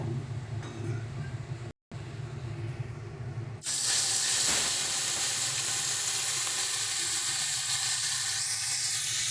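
Small chuna fish rubbed with salt and turmeric drop into hot oil, bursting into a loud, steady, hissing sizzle after a quieter lead-in, with the frying crackle holding strong to the end.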